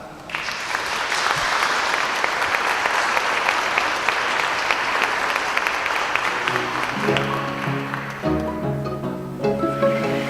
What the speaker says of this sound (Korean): 정말 가장 큰 박수로 우리 응원해 주시기를 부탁드리겠습니다